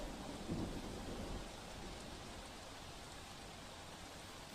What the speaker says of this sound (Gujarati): નવસારીના બિલીમોરામાં સતત ધોધમાર વરસાદ વરસી રહ્યો છે